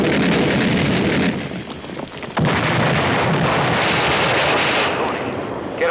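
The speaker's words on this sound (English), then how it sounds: "will bring that artillery right down on top of you" Loud, continuous artillery and gunfire barrage with heavy booms and bursts in a 1951 World War II tank combat film, dense and overlapping throughout with a brief dip before resuming.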